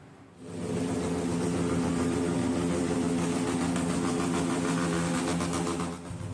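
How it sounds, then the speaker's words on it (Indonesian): A motorcycle gang convoy on a main road revs its loud exhausts in a continuous, dense engine roar that swells quickly and stays loud throughout. "Video amatir warga ini merekam aksi kawanan geng motor yang sedang menggelar konvoi di jalan raya sambil membisingkan knalpot"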